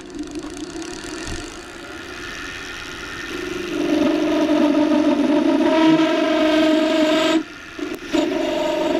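A Grizzly gouge cuts across a spinning wooden spindle on a lathe, giving a steady whirring, scraping tone that swells midway and breaks off briefly near the end before resuming.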